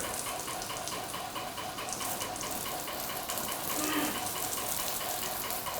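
Water sprayed onto a car's glass during a water-spot test gives a steady, even hiss of spray that runs unbroken and fairly close throughout.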